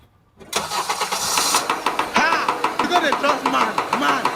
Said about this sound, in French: faut démarrer la voiture